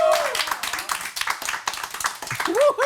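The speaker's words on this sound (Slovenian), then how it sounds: "A lahko prosim en aplavz?" An audience claps and applauds warmly at a Slovenian comedy show, a dense burst of hand claps lasting a few seconds with a voice speaking over the end.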